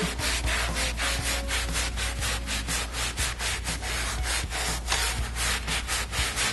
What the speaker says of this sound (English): I'm going to agitate it lightly into the carpet.